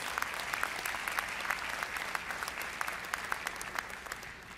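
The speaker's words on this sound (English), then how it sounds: "Give him another round of applause." A convocation audience claps in sustained, steady applause for a former mayor, dense and continuous throughout at moderate distance, with no speech on top.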